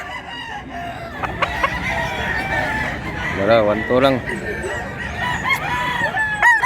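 Rooster crowing at a Mantalungon chicken expo, a yearling bird giving one clear harmonic crow midway with other crows and clucks around it, while someone talks over the busy background.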